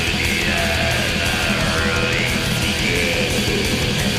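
Norwegian black metal: a dense, continuous wall of distorted tremolo guitars and rapid drums, loud and unbroken, with no voices.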